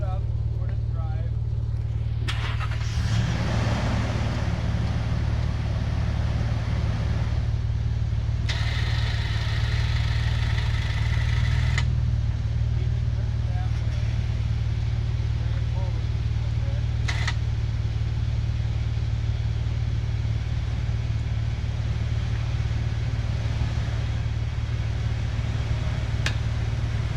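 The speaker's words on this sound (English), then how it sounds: "Start it up, put it in drive." An off-road vehicle's engine starts and idles steadily during a recovery, a low, continuous engine rumble heard close throughout, with bursts of louder mechanical noise and a voice speaking briefly early on.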